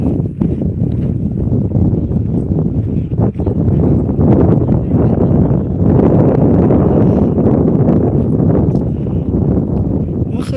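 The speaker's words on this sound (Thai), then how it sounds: "ลมแรงมาก" Strong wind buffets an outdoor microphone during a morning live broadcast, a loud, continuous low rumbling roar with gusty swells lasting throughout.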